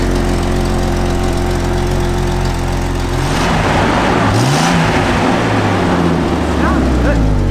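A Jeep engine idles steadily after starting, a loud, continuous low rumble with even harmonic drone, close to the listener, with a brief pitch wobble midway and some background noise.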